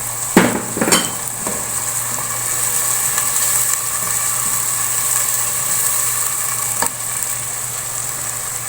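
Ginger garlic paste with tomatoes frying and being stirred in a pan, a steady close sizzle with a few sharp utensil scrapes near the start and one later, no talking.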